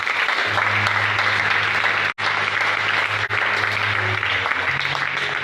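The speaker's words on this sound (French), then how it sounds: "Est-ce qu'on va applaudir pour le Seigneur?" A church congregation applauding after a sermon on the power of the Holy Spirit: sustained, dense clapping from a large crowd filling the room, with brief dropouts, a low steady hum underneath and faint voices mixed in.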